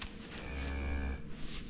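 A calf or cow moos in one long, low, drawn-out call close by, with faint farmyard background around it.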